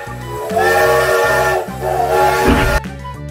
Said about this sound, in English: Express train.